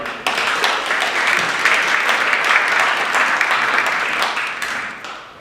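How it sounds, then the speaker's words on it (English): A room of councillors at a full council meeting breaks into steady, dense applause that holds evenly for about five seconds before tapering off at the end. "Can I ask for a round of applause?"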